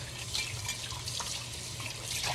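Running water from a sink tap rinses dishes, a steady close wash of flowing water with light drips and splashes throughout, no talking.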